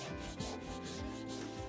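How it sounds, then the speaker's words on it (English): Steady friction of a tool rubbed briskly along the glued edge of a leather folding minimalist wallet, a continuous close scraping hiss with a few slight strokes in the rhythm and no voices. "burnish it just like that"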